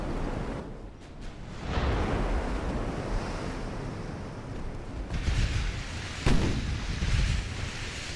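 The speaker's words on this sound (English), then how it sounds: "Those are the battleship shells flying in now. A little slower because they're heavy shells." Heavy battleship shells arrive in a naval battle in Ultimate Admiral: Dreadnoughts, around 1890: deep, rumbling booms and whooshing rushes swell over a constant sea-and-wind wash, with the strongest hits near the middle and end.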